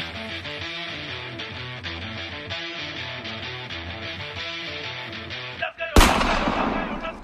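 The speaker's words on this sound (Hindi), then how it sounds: "ये पटाखों की आवाज नहीं, मैडम गोली की गोलियां है" Sustained music with a dense rhythmic bed, then an abrupt loud burst of gunfire near the end that crashes in over it.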